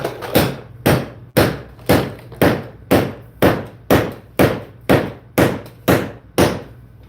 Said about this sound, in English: that's what we're doing, running that stainless steel screw in